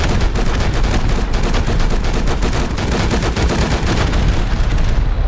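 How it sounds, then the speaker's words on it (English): Rapid, continuous barrage of strafing rockets and gunfire in a video game, loud and dense with overlapping blasts throughout and no voices. "Look at how many rockets are shooting."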